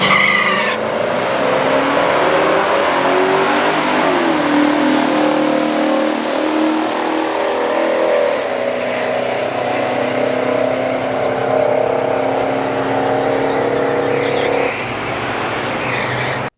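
A 1971 Chevrolet Chevelle 454 drag races a 1969 Oldsmobile Cutlass at a drag strip, loud roaring V8 engines revving and accelerating hard with tire squeal, sustained for the full run before the sound eases off near the end.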